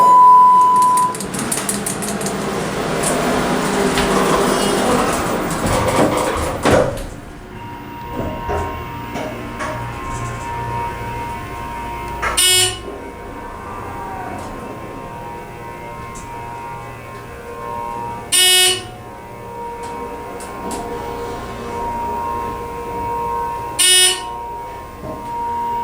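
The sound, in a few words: ThyssenKrupp hydraulic elevator motor running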